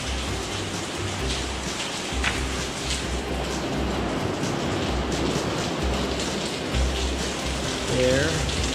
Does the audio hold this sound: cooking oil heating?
no